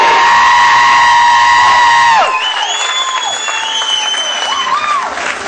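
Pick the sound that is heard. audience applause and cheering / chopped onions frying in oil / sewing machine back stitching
audience applause and cheering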